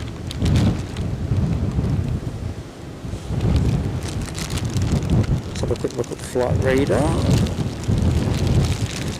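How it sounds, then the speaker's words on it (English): Rain and gusting wind from Storm Floris at Edinburgh Airport buffet the microphone in bursts, a loud wash of noise beneath someone talking, with a brief tonal whine partway through. "Rain's back, as you can probably hear."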